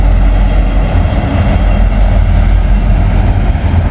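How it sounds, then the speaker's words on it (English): Norfolk Southern freight train rolling past nearby, a loud, steady low rumble of rail cars and wheels on track that continues without letup, with no talking. "a Norfolk Southern train is coming down the line"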